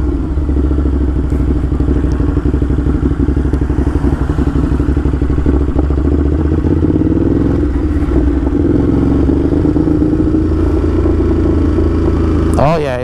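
A Ducati Hypermotard SP motorcycle runs at close range with a loud, steady engine drone and a rough, rhythmic mechanical texture, ending in a quick rising rev.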